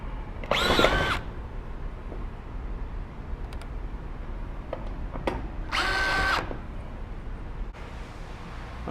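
Power drill driving screws into drywall while hanging sheets, two loud whirring bursts close by, each about half a second long, separated by quieter handling knocks and clicks.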